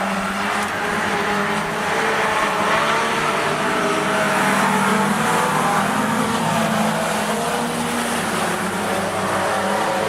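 Race cars at Rockhampton Speedway in a fender bender event roar continuously around the dirt track, a steady dense wall of engine noise at close to mid distance with no pauses over the full length.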